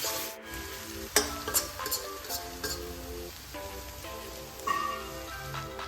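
Pigeon meat with potato and banana flower frying in hot oil, a steady close sizzle broken by several sharp clatters and scrapes of stirring.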